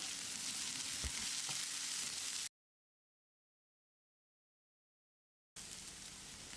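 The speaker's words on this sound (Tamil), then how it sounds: "1 நிமிஷம் இதை நல்லா ஃப்ரை பண்ணிக்கலாம்." Steady, close sizzling of chopped chilli and capsicum frying in a pan, broken by a few seconds of silence before the hiss resumes.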